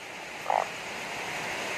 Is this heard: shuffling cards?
no